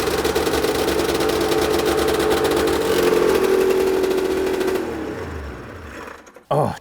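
A triple-cylinder snowmobile engine fitted with Wiseco pistons runs loud and close with a buzzy, raspy tone, then its revs drop and it winds down and falls quiet at the end.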